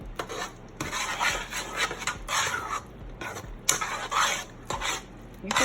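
A small spoon stirs milk into mashed potatoes in a pot, making repeated scraping, rubbing strokes against the metal at a steady, rhythmic pace. The sound is close and moderately loud, with no talk over it.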